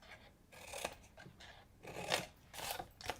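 Scissors angle-cutting two cardboard tabs on a handmade treat box, heard as close, quiet crunching snips in short repeated strokes with brief pauses between cuts.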